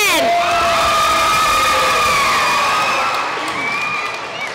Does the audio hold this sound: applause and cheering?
yes